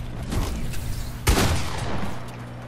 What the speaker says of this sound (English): It was a warning shot.